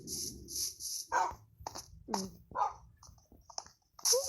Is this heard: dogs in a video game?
yes